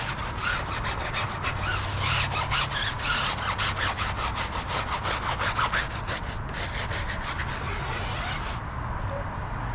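A stiff brush scrubs a car tire in rapid back-and-forth strokes, with a fast, rhythmic rasping that stays close and loud, then slows and fades near the end.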